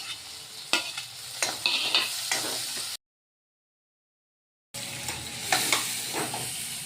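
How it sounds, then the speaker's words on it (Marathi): Tomato and chili go into a hot frying pan with oil, giving a steady close sizzle and spatter broken by stirring scrapes, then a short silent gap before the frying resumes. "आणि हा टमाटर आणि हे मिरची पण यामध्ये टाकायचे।"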